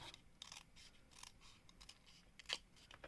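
Scissors snipping through a strip of paper while making a paper rosette: faint, quiet crisp cuts in a short irregular series, the last one slightly louder, with no voice over them.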